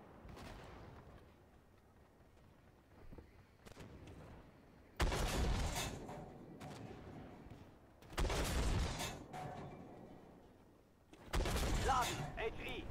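A 2S3 Akatsiya self-propelled howitzer in the tank game Armored Warfare fires three loud, booming artillery shots a few seconds apart, each followed by a rumbling tail, over a quiet engine hum with occasional talk.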